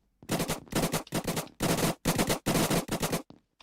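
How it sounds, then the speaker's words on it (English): Rapid bursts of automatic gunfire from a parkour FPS shooter game, GunKour, come in about eight loud, close, rattling volleys separated by brief pauses, with no talk. "I can hear the bullets."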